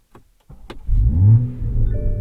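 A 2021 Toyota GR Supra, a track-prepped car, cranks briefly and catches, its engine settling into a loud, close, steady idle with a low rumble after a few quiet clicks.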